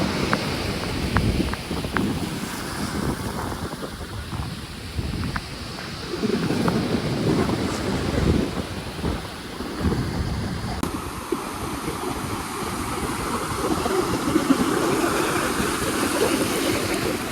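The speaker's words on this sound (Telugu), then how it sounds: "లిటరల్గా బీచ్ అలలు మన కాళ్ళు తాకుతా అంటే" Sea waves washing onto the beach at Chirala, a continuous loud rush of surf with surging swells, mixed with heavy wind buffeting the microphone and no talk.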